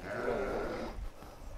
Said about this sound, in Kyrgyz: Экөө тең козу кочкор.